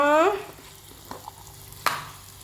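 Food frying lightly in a pan for a quick pulao-style rice dish, with a soft background sizzle, a few spoon-and-pan clicks from stirring, and a brief voice at the start.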